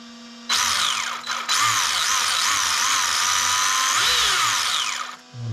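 Electric motor of an Exceed-RC Sunfire RC car revving under throttle, a loud high whine that rises and falls in pitch across several bursts, close by and alone.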